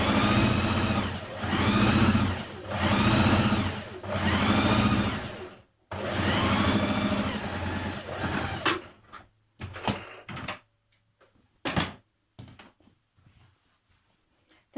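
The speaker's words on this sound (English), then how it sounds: "sew in that seam now" A sewing machine stitches a skirt seam with a 1.5 cm seam allowance, running in several sustained rhythmic bursts with short pauses. It then stops and leaves scattered light handling clicks, close and loud.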